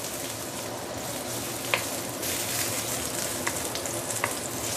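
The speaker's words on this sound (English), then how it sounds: "You want to infuse the oil with the ginger aroma." Ginger frying in hot oil for a pomfret fish soup: a loud, dense, steady sizzle fills the whole stretch, broken by a few faint stirring clinks and no talking.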